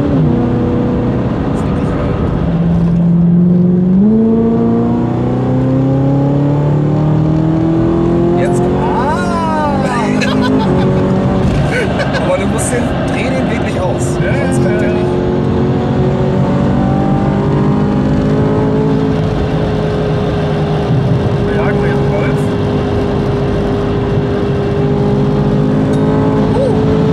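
A supercharged BMW M3 with a G-Power Kompressor conversion runs on a dyno, its engine loud and close, droning and revving with climbing and falling pitch throughout while people talk in the background.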